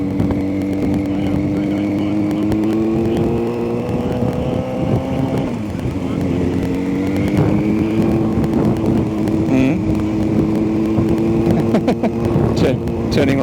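A motorcycle rides steadily through road traffic with a continuous engine drone that shifts pitch as it weaves and slows, wind noise over the microphone, and a rider talking throughout.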